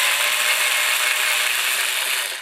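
A power ratchet whirs in one continuous, close, steady burst for about two seconds while removing a part, with no voices.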